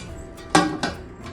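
A lid is set onto a pot of raw mango fish curry, two sharp metallic clanks about a quarter second apart, close and clear over a quiet kitchen background.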